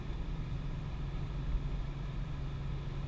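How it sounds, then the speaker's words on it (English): 2017 Toyota Tacoma TRD Pro with manual transmission floored in sixth gear, a steady low engine drone with road rumble inside the cab, even and continuous with no talking. "So here I'm kind of flooring it in sixth"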